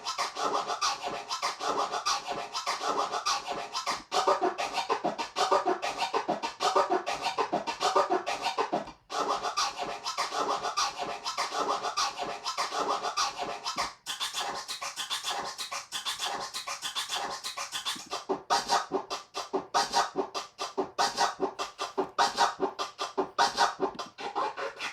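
Turntable scratching played back as a DJ pattern, dense rapid back-and-forth scratch strokes in quick rhythmic bursts, loud and close, with a couple of brief pauses and no talking.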